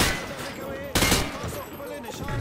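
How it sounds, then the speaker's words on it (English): Rapid rifle gunfire at range targets in Call of Duty Modern Warfare 2, a loud burst of overlapping shots with sharp cracks, heard alongside background voices. "Turn around and fire at the targets."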